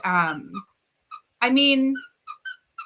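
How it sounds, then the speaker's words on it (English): A puppy plays with a squeaky toy, squeezing out a series of short, shrill squeaks in separate bursts with brief silences between them. "Can you hear that squeaky toy? That's my puppy."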